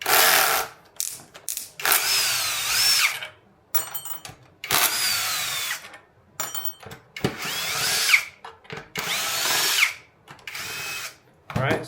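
A power drill backing screws out of the front bumper of a Floatwheel Atom electric board, in repeated loud whirring bursts of one to two seconds separated by short pauses and small clicks, close up.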